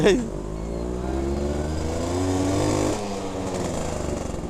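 A Suzuki Tornado GX100 motorcycle engine, still cold, idles and revs up briefly, rising then falling, close by and steady.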